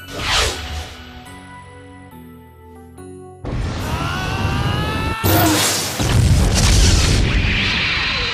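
A loud, booming magic cannon blast in the anime Save Me Lollipop, with whooshing, tonal swells and roaring bursts, building in layered waves over a dramatic musical backdrop.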